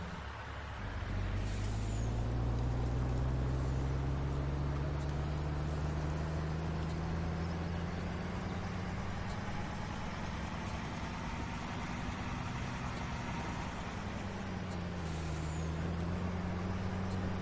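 A truck in Farming Simulator 19, on the Saxony map, gives a steady, loud low engine drone with slowly shifting pitch, a brief air-brake hiss near the start and another one later.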